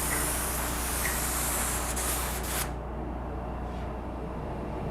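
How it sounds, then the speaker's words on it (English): A spray gun hisses steadily as it applies Spies-Hecker 5150 primer surfacer in a paint booth during a 1968 California Special Mustang restoration. The hiss stays broad and close, then cuts off sharply partway through, leaving a lower booth rumble. "the product that I'm going to spray on now, the 5150"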